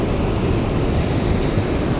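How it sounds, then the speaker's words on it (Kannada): Dam channel water at Marikanive rushing steadily in a dense, continuous roar, close and loud with no pauses or voices. "ಮತ್ತು ಈ ಕಡೆ ಕೂಡ ಡ್ಯಾಮ್ ನೀರು ತುಂಬಿ ಹರಿದು ಹೋಗ್ತಾ ಇದೆ."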